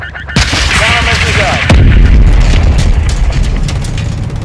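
Missile explosion in the video game Call of Duty Modern Warfare II: a very loud, close blast with a deep rumbling boom, a second heavy impact, then sustained roaring debris and rumble under faint combat voices.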